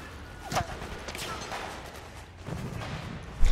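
Gunfire and stray bullets in Metal Gear Solid 4: Guns of the Patriots, heard as distant scattered shots over a rumbling battlefield bed, with a louder crack at the very end.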